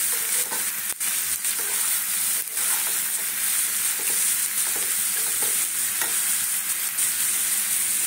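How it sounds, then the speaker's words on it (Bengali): Vegetables for fried rice are stirred in a hot frying pan: a steady close sizzle with repeated light scraping strokes of the spatula, no voices. "সবজিগুলোকে হালকা নাড়াবো।"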